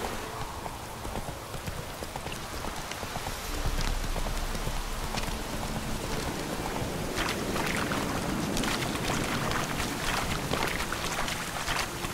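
Roach, the horse in The Witcher 3, gallops in a steady, continuous clip-clop of hooves close by, over a constant wash of wind and ambient noise, with no talking.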